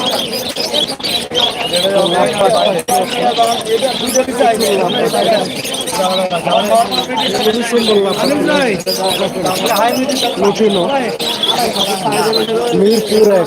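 Budgerigars, including English budgies, crowd a busy Friday bird market at Mirpur 1 and keep up a dense, continuous warbling chatter, loud and close, mixed with a murmur of human voices.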